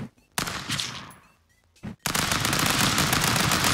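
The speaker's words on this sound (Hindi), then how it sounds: "तेरे को इतनी गोलियां मारी, मरा क्यों नहीं तू?" Rapid gunfire in a stick-fighting game: a short burst, a pause, another brief crack, then a loud continuous stream of machine-gun fire that runs to the end, close and harsh.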